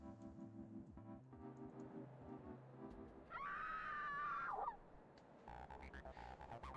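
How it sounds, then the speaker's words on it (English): A loud, drawn-out scream rings out from the Snoot Game mod for about a second and a half, rising over low game music and ambient rumble, then cutting off. "I need to hear these screams because they're fucking great."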